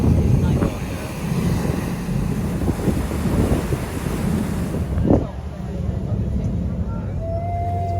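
A boat cruises along the Italian coastline near Portofino, with steady wind buffeting and splashing water beneath it, plus a brief voice and a faint high tone near the end.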